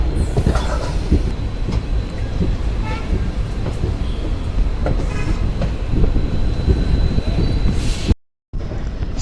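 A train from Kacheguda rolls along the rails with a steady rumble and faint rhythmic clacking, heard continuously and close by, with a short break in the sound near the end.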